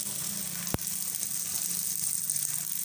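Steady sizzle of a besan missi roti roasting in ghee or oil on a hot pan, a constant close hiss with one sharp click near the start and no voices.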